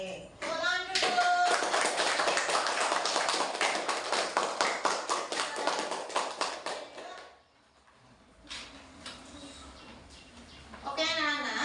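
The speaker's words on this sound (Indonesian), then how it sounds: "Oke, tepuk tangan dulu." A third-grade primary school class claps hands together in a classroom, a loud, dense burst of rapid claps lasting several seconds before thinning out, followed by a brief quieter clatter and a teacher's voice.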